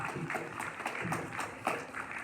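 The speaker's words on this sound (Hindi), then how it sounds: "तालियों के साथ स्वागत कीजिए" Applause from a school audience at a Republic Day poetry gathering welcomes a poet, a moderately distant clatter of many hands with loose rhythmic pulses running throughout.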